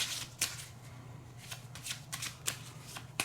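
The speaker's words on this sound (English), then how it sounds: "we're going to begin by shuffling the cards." Cards for the Skulls of Sedlec tabletop game are shuffled by hand in a quiet room, a soft continuous riffle broken by several crisp snaps and flicks as the deck is bridged and squared.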